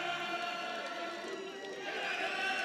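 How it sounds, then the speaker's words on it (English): A stadium crowd cheers steadily at an England versus Mexico men's U20 World Lacrosse Championship game, a broad, sustained roar heard from a distance, with a voice talking over it. "The crowd's in full voice."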